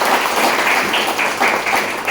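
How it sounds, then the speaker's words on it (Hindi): An audience at a business presentation meeting claps together, a dense, steady wash of hand claps that stays loud and even for the whole couple of seconds. "किशोर सर और मनीष सर के लिए जोरदार ताली चाहूंगा"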